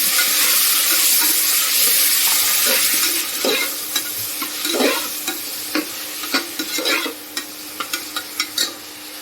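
Onion and tomato fry in a pan with a loud, steady sizzle that eases off, followed by a series of regular spoon clanks and scrapes as the mixture is stirred, close up.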